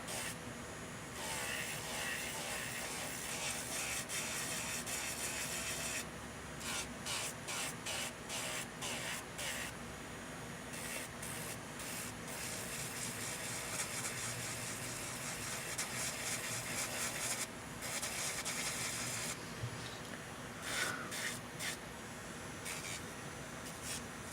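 An electric nail file buffs and smooths an acrylic overlay on a natural nail, a steady close whirring hiss with short pauses and changes in pressure as the bit moves over the surface.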